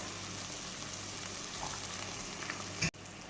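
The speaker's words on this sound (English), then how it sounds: "I'm going to saute this." Corned beef with a little ketchup sautéing in a pan in Jamaican style, a soft, even sizzle close by with a brief clatter near the end, without talking.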